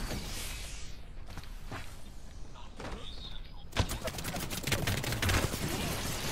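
Rapid gunfire bursts in an Apex Legends match crackle close and loud, strongest in the second half, over a busy mix of footsteps and game effects.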